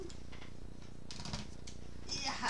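Typing on a computer keyboard at a cluttered desk: a quick, uneven run of close, crisp keystroke clicks with short pauses between bursts.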